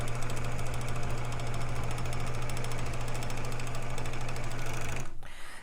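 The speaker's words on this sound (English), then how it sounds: "we're gonna lift up the presser foot, push that fabric up close to the needle, and make sure that your cut edge is lined up with the knife. And then we will actually just sew." An overlock sewing machine runs steadily through fabric as it trims the cut edge, a loud, fast mechanical hum with rapid stitching rattle, close up and alone, stopping abruptly just before the end.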